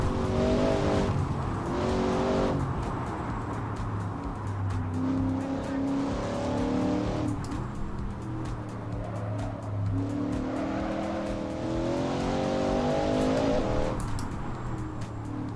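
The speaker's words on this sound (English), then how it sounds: "I think Ali's putting on a drift display" A race car drifting in the iRacing sim racing game: a loud, continuous engine drone rising and falling with gear changes, threaded with squealing tires as the car slides, with brief voice sounds in the mix.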